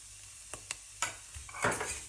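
Pepper powder and garam masala stirred into a sizzling curry base for South Indian chicken curry: a few sharp spoon scrapes, then a louder burst of sizzle near the end, close and without talk.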